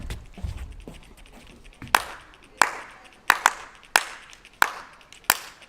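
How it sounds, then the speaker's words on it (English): Hand claps ring out one at a time inside an ancient Greek theater in Turkey, about seven sharp claps spaced roughly half a second to a second apart. Each has a quick bright attack and a short, smooth decay, with a few soft taps in between. "If you clap here, the wave of sound will go all over the theater in a really smooth way."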